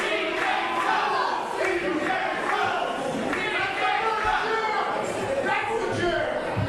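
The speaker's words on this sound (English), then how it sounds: "Apparently the crowd thinks CJ sucks." A large wrestling crowd roars and chants steadily throughout, a dense wall of voices with rhythmic jeering swells, loud and continuous.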